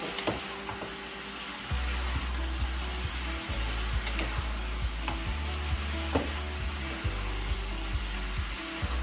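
Bean sprouts stir fry in a hot pan with a constant sizzle, while a utensil taps and scrapes against the pan in a steady rhythm, close and fairly loud, with no talking.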